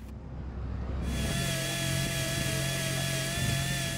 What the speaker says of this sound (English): Drilling through the deck and hull is never something we like to do